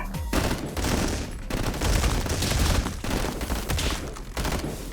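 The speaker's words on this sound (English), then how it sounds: "I'll take the AK." Rapid AK rifle fire in the video game Madness: Project Nexus comes in loud, dense bursts of overlapping shots, separated by brief gaps, with no speech over it.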